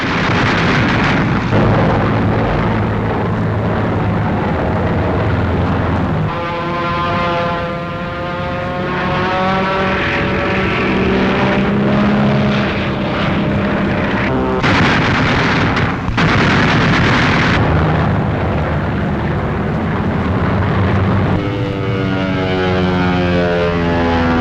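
Thunderbolt fighter planes fly in a WWII air battle, with loud, sustained propeller-engine roar and rising and falling drones as aircraft pass, heavy and continuous throughout.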